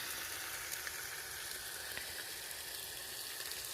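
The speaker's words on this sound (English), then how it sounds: "I'm cooking us up some bacon" Bacon sizzling and spitting in a pan at a morning campsite, a steady close crackle of frying fat filling the whole stretch with no voices.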